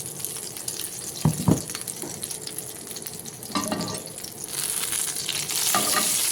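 Mutton keema frying in oil in a home kitchen, with a steady sizzle and intermittent stirring scrapes and clatter, no voices.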